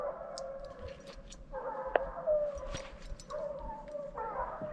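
Hunting dogs bay and howl on a bear's trail in the woods, long wavering cries overlapping from some distance, rising and falling steadily with a few sharp yelps.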